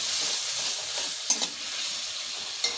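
Spices sauté with a splash of water in a pan, giving a steady hissing sizzle close by, broken by a couple of sharp clinks from the stirring utensil.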